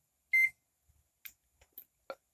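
A digital multimeter on its continuity buzzer setting gives one short, clear beep, followed by a few faint clicks in otherwise quiet surroundings.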